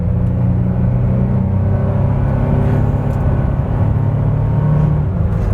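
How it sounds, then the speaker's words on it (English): An Isuzu VehiCROSS SUV accelerates at full throttle on a straightaway from about 30 mph, its engine a steady loud rumble and drone that holds throughout with no voices over it. "I'm going 30, I'm gonna floor it."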